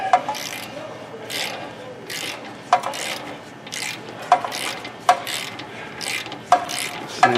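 A Snap-on ratchet works loose an old, heat-soaked tie rod nut on a high-mileage vehicle, giving repeated rasping clicks in regular bursts about once a second, close and moderately loud with no talking.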